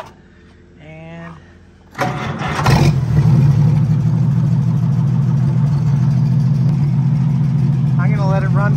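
An Oliver Row Crop 88 tractor engine starts and settles into a loud, steady running drone close by, held for several seconds, with a person talking briefly before and near the end.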